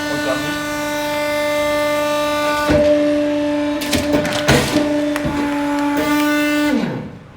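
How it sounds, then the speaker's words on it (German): A punch press running after its button is pressed, a sustained mechanical hum with steady tonal whine, sharp clanks and thumps in the latter half, then winding down at the end. "Und dann kommt der Peter, das ist der große Fachmann für diese Maschine. Der drückt dann auf den Knopf"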